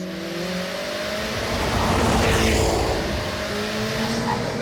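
A 1,000-horsepower 2025 Corvette ZR1 accelerates hard, its engine roar swelling loud and near, peaking mid-way and then holding a strong steady drone.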